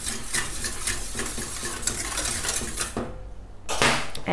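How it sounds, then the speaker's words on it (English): A spoon stirs a blend of natural plant oils and antioxidant in a small container for a foundation stick, giving close, busy scraping and clinking that pauses briefly before a final clatter. "Give that a stir."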